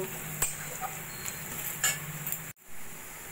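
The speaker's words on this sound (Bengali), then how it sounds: "পেঁয়াজ সোনালি করে ভেজে নিয়ে দিয়ে দেবো পরিমাণ মতো নুন হলুদ আর লঙ্কার গুঁড়ো, ভালো করে মিশিয়ে নেব" Onions fried golden in a pan with salt, turmeric and chili powder being stirred in, a soft steady sizzle with a few light utensil scrapes and clicks, then a brief cut to near silence before the frying resumes.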